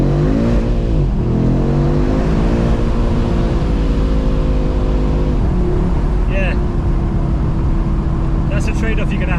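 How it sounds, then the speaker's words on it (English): An Audi RS3 8Y engine revs hard inside the car with the windows down, its pitch sweeping up and falling back in repeated rises, under loud cabin and road noise, with a brief spoken word. "Let's see if we can get it to hit the rev limiter."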